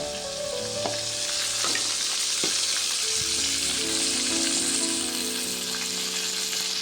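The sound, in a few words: brinjal (eggplant) cooking in a pan with spices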